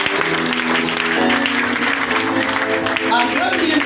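A church congregation clapping and acclaiming during a sermon, a steady burst of applause mixed with voices and music.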